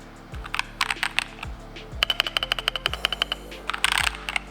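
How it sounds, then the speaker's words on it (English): Close-up typing on an Alienware mechanical keyboard with red switches: quick clacking keystrokes in short bursts, crisp and fairly quiet, with heavier thocks from larger keys. "he's got this Alienware keyboard"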